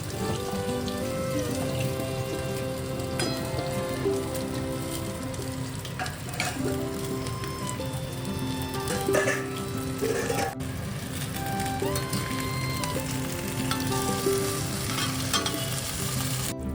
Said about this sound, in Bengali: তোমার মাছের ঝোলটা ফুটে গেছে